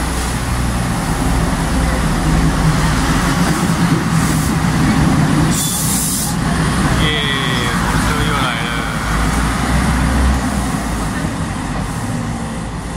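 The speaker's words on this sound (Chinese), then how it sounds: "啊，火车来了，火车来了。" A train pulls into Pingxi station during a sky lantern release, its continuous loud rumble and rail noise filling the whole stretch up close, while excited voices talk over it.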